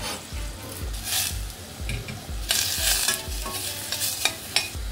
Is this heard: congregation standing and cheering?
no